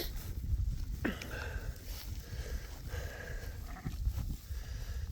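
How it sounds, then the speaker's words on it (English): Lambs on a farm bleat for their mothers and ewes answer, a few faint calls scattered over a steady outdoor background of rustle and movement. "I hear the lambs call for their mamas like that, and the moms respond"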